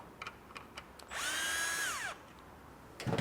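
A power driver whirs for about a second as it backs out a coarse-thread Phillips screw from a Vespa GTS belt cover, close and clear amid a few small taps and clicks.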